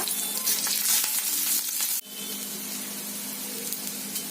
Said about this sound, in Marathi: आता तेल चांगलं गरम झालंय, त्यामध्ये ह्या लसूण पाकळ्या घालणार आहोत आणि हे आलं, हे चांगलं परतून घ्यायचंय आपल्याला।